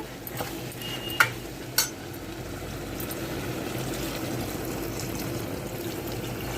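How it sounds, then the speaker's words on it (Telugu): Water poured into a pan of frying tripe curry with ginger and oil: two quick clanks, then a steady hissing sizzle and bubbling that continues evenly. "ఇప్పుడు వాటర్ వేసేసుకుందాము"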